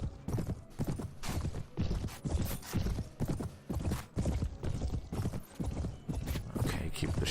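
A horse gallops in the medieval combat game Mount & Blade: Warband, with rapid, continuous hoofbeats throughout and a player talking over them.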